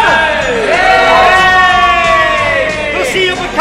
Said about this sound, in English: Everybody is here to cheer for the camera!